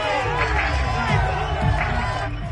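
A home crowd at a Panthers vs Falcons football game cheers in a loud, sustained roar that swells and fades, with a commentator talking over it.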